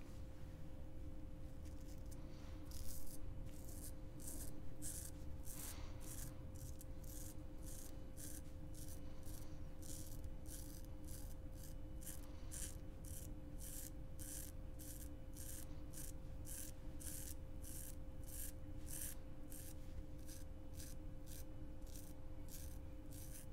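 A beginner straight razor scraping through stubble in a traditional wet shave, giving soft repeated rasping strokes in a steady rhythm, close and fairly quiet over a constant low hum, with no talking.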